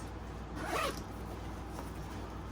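A single quick zipper pull on a back pocket of a Dooney & Bourke leather bag, a short rasping zip under a second long, fairly close, followed by quiet room noise.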